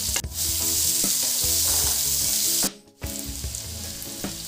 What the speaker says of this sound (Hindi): अब हम इसमें लंबे स्लाइसेस में प्याज काट लेते हैं।